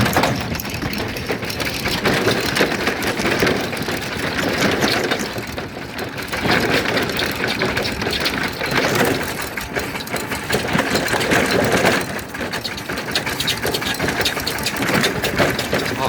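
A walking tractor hauling corrugated metal sheets runs loudly and close by, its engine chugging with a steady mechanical rattle and small rhythmic surges throughout.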